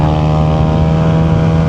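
A Honda Giorno 160cc scooter engine runs at high revs with a loud, close, steady droning buzz throughout.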